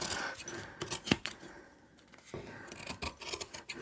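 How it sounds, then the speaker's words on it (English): Scissors snip close up through heavy fabric in quick uneven cuts. The blades crunch and rasp, with a short pause before the cutting picks up again. "I have some really excellent scissors here"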